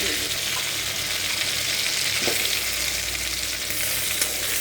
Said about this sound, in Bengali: আলুটা একটু ভালো করে ভাজা হোক